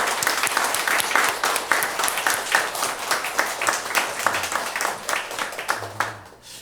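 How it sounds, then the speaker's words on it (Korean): A church congregation applauds together during a Sunday service, a dense, steady wash of many hands clapping that carries on for several seconds before tapering off near the end. "서로에게 고마움의 박수를 우리 올려드릴까요"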